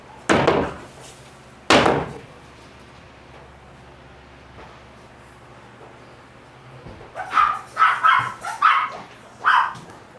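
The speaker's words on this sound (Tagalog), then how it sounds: "May pagkain ba yung mga aso din, Je?" Dogs bark outdoors: two loud barks sound early, then there is a quiet gap, and then a burst of several quicker barks and yips near the end, with a possible door slam among them.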